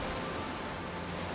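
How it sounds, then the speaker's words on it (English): Cannons firing shrapnel shot in the Total War game Napoleon, heard as a dense, continuous rumble of artillery fire with no clear separate blasts. "now these cannons will open up and they can start targeting the American artillery out there"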